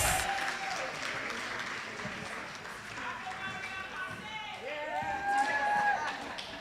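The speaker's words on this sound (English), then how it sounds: "So let's give her a round of applause." Steady applause from a sizable crowd at a retirees' dinner, a dense patter of many hands clapping, with a few voices and whistles rising above it near the end.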